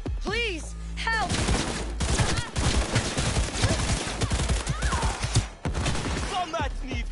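Rapid automatic gunfire from the video game Cyberpunk 2077 comes in dense bursts of sharp shots, mixed with a wailing synthetic tone and game effects, with a voice talking intermittently.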